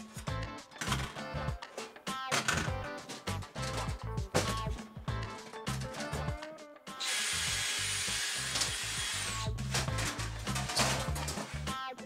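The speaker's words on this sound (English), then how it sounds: "I was just drilling everything." A power drill bores out the rivets inside an Xbox 360 console. Bursts of grinding whir alternate with rattling, clicking metal, then a loud, steady drilling roar holds near the end.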